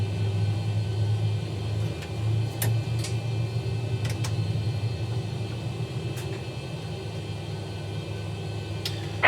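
Jet airliner engine spinning up during start in the X-Plane 11 flight simulator, a steady low rumble with a faint whine, punctuated by scattered light clicks, no voices.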